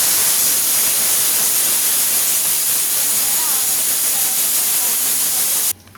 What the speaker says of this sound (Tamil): குக்கர் மூடிக்கிட்ட 4 விசில் வந்து வாங்க பார்க்கலாம்.